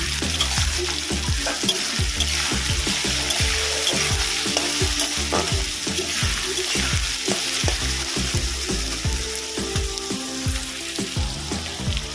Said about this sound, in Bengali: আমি এর মধ্যে দেবো আদা রসুনের পেস্ট দিয়ে এটাকেও ভালো করে কষিয়ে নেব